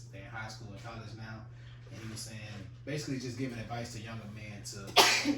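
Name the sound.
sneeze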